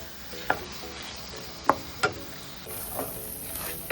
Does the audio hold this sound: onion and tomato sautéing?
yes